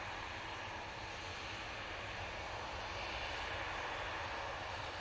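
An SAS airliner lined up on the runway at Manchester Airport, its engines giving a steady, moderately loud broadband roar that swells a little toward the end, with no voices.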